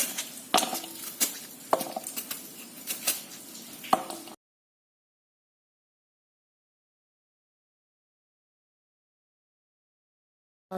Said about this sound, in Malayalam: കുരുവോട് കൂടി അരിയുക